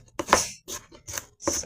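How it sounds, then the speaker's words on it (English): Crisp knife strokes chopping vegetables for a lentil stew on a small chopping board, four distinct close thuds in an uneven rhythm with no talk. "So we can only really chop up a little as we can for our lentil stew."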